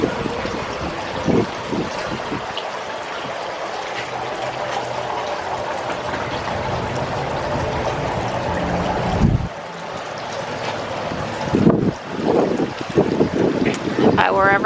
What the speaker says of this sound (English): I heard the fountains as soon as I walked up.